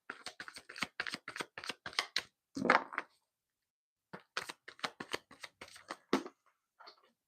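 Tarot cards being shuffled by hand, rapid crisp flicks and riffles in quick bursts, a short pause, then another run of close, dry card snaps in a quiet room.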